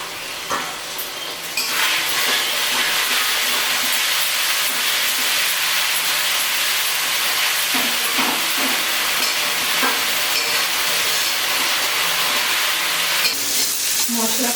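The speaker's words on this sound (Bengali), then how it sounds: "মশলা কষানো হয়ে গেছে" Spices with salt and turmeric sautéing in a pan for chicken kosha make a loud, steady sizzle and hiss close by throughout, with occasional stirring scrapes and a brief quieter moment at the start.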